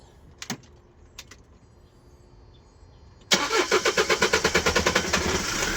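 A Kia Bongo 3 Euro 4 diesel with fault codes cranks after a few quiet clicks, then fires into a loud, even, rapid engine rhythm that settles into a steady idle, with no one speaking.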